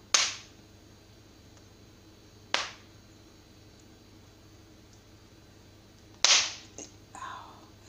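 Cocoa beans parching for homemade Jamaican chocolate give off three sharp, spaced pops over a low steady background hiss, with faint softer crackles near the end.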